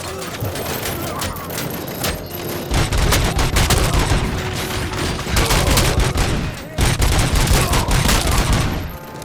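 Sustained gunfire in the PS5 shooter Robocop: Rogue City, dense rapid bursts and fusillades with booming impacts, loud and close, pausing briefly before resuming, with voices shouting beneath the shooting.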